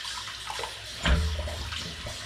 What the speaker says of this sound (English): Just get a little bit of water going, just enough to rinse the brush